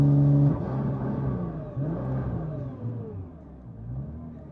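A Nissan R35 GTR running a Motec M150 ECU launches in launch mode 3: an engine held at launch revs that then pulls away into a deep, rising rumble that gradually fades as the car moves off.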